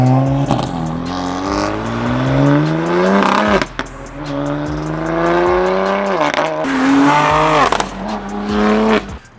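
A Toyota Supra engine revs hard several times, pitch climbing and dropping between bursts, loud and close with a throaty exhaust note.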